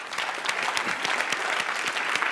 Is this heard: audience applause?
yes